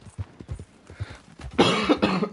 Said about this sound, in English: Sorry for coughing in your eardrums there